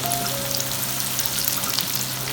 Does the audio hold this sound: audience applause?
no